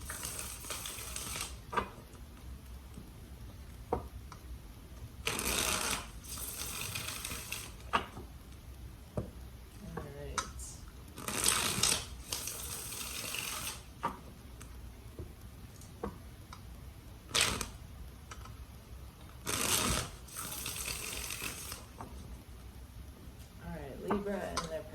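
Tarot cards being shuffled by hand, soft papery riffles and flicks in several short bursts separated by quiet pauses, close and fairly faint, with occasional small taps and clicks between.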